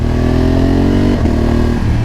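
A Honda Africa Twin 1100 motorcycle engine runs steadily up close, loud and continuous, with a brief dip in pitch midway as if shifting or easing the throttle before resuming.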